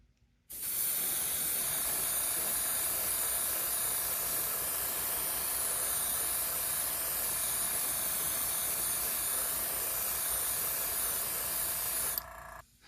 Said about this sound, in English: We're just going to spray down on the top of the command structure of the ship and just paint that top surface.